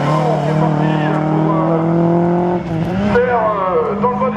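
A race car on a slalom circuit accelerates hard, its engine note climbing steadily, then dipping briefly at a shift before rising again, loud and close, with commentary running over it.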